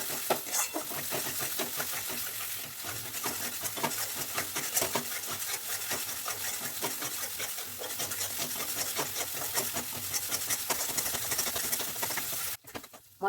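A thick masala paste of ginger, garlic, cashew and fried onion frying in oil, stirred continuously with dense scraping and crackling at an even, fairly loud level that cuts off abruptly near the end.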